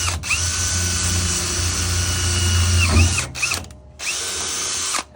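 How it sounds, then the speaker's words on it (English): A hole saw drills through the metal wiring compartment of a Tesla Powerwall, a loud close whining grind that runs steadily, briefly stops, then resumes in a shorter burst. "It's never smart to drill through metal without safety glasses."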